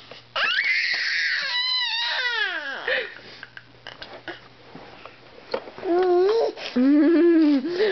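Baby screaming while bouncing in an exersaucer, loud high-pitched shrieks sliding up and down in pitch, with quieter breathy gaps and more screams toward the end.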